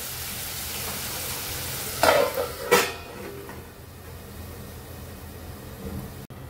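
Tomatoes soften under a lid in a kadhai for kolambi masala, giving a steady low sizzle and hiss with two brief metallic clatters early on before the simmer settles down quietly.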